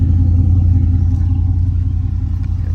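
A 2005 Chevrolet Corvette C6 engine idles with a loud, steady low rumble close by, its deep tone holding even and unbroken throughout.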